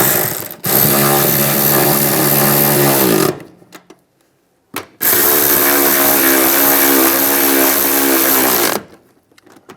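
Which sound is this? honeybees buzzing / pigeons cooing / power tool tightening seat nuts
power tool tightening seat nuts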